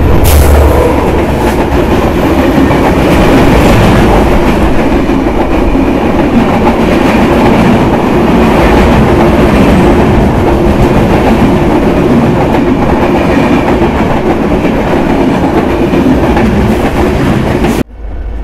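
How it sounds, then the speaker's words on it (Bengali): The Chilahati Express pulls out of Phulbari station in Bangladesh, a loud, dense rumble of rolling wagons with rhythmic wheel clatter that holds steady throughout before cutting off sharply at the end. "প্রায় 15 মিনিট লেট করে চিলাহাটি এক্সপ্রেস ফুলবাড়ি স্টেশন ছেড়ে"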